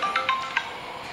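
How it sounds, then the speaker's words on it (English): A phone ringtone announces an incoming FaceTime call, with a few short bright tonal chimes repeating quickly, fairly loud and close, with no talking over them. "Chris is FaceTiming me, dog."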